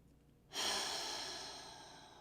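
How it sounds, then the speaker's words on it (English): A single audible exhale through the mouth during a yin yoga breathing exercise, a soft breathy whoosh starting abruptly and slowly fading, close and quiet. "We'll inhale through the nose and exhale audibly out the mouth"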